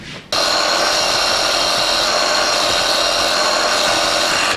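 A drill on a Bernardo P 600 G lathe bores a 3.3 mm core hole about 15 mm deep into a metal rear toolpost part. It starts suddenly and holds a loud, steady, close whirring grind to the end.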